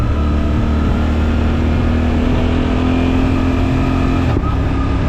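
A Suzuki V-Strom 800SE twin-cylinder motorcycle engine pulls steadily under acceleration with a close, continuous droning note, a brief dip near the end as a quickshifter gear change cuts in.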